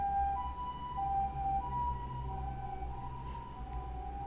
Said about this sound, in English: And there's an ambulance coming.